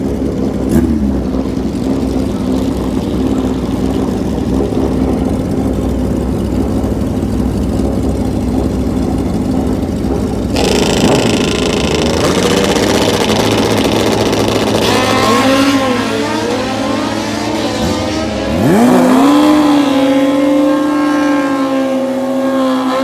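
Kawasaki ZX14 and classic Kawasaki KZ drag motorcycles at a bracket race, engines droning steadily before rising into loud revving and a high climbing whine as they launch down the strip.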